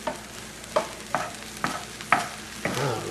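Onions, mushroom and garlic fry in a pan under a soft constant sizzle, while a utensil stirs and scrapes the pan in five or six distinct strokes, close and fairly quiet.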